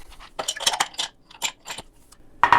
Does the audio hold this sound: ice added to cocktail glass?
yes